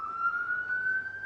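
A fire engine siren wails faintly in the background, a single steady rising tone held for the whole moment, distant and thin with no talk over it.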